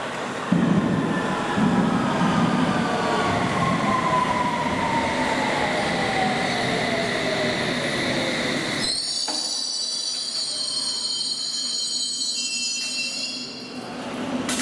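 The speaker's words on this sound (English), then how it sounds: "We've got a district service to Wimbledon." A London Underground District line train at Paddington rolls along with loud, steady rumble and long squealing wheels, ending with a sharp high metallic screech near the end; no voices.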